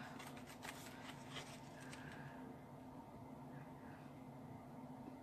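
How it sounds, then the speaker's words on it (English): Scissors snip medallion shapes out of a printed card, giving a quick run of faint close crisp cuts and rustles that thin out into quiet room hum. "Grab my scissors. We're going to snip out."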